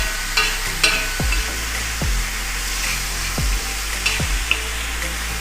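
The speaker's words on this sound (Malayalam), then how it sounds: "പച്ചമുളക്, 2 സവാള, കുറച്ച് ചുവന്നുള്ളി, ഇതെല്ലാം കൂടി ഇട്ട് ചട്ടിയിലിട്ട് നമ്മളിങ്ങനെ വഴറ്റിയെടുക്കുന്നതാണ്" Green chillies, onions and shallots sauté in a clay pot for karimeen pollichathu with a constant close sizzle, while a spoon scrapes the pot in regular strokes roughly once a second, with no talk.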